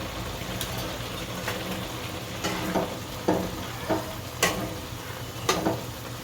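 Bottle gourd halwa with milk and sugar bubbles and sizzles in a pan as a spoon stirs it, a steady hiss broken by repeated scraping knocks.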